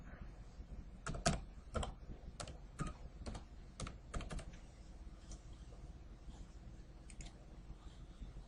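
Typing on a computer keyboard: a run of quick, light key clicks up close, then sparser, fainter taps trailing off, with no talking.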